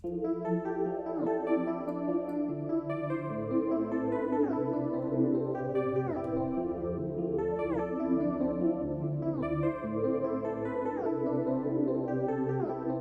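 A bright synthesizer arpeggio from an Electra synth cycles steadily through a repeating melodic pattern, sustained and continuous with no voices.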